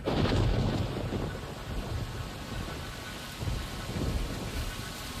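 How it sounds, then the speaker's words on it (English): Steady rain falls hard and close while deep thunder rumbles, swelling at the start and again midway. "Let's start the rain."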